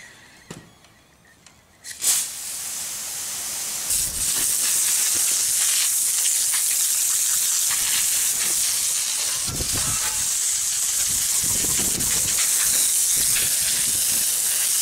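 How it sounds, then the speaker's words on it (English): A hose pipe blasts water onto a yard scraper with a steady, loud, close hissing spray that starts abruptly after a couple of seconds of quiet and runs on continuously. "if I blast most of it off with the hose pipe"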